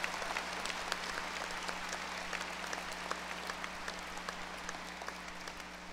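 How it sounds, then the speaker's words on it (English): Applause at a college commencement ceremony, many people clapping in a large hall, heard as a steady, slightly distant patter with a low hum beneath it. "Graduates, give your families a round of applause,"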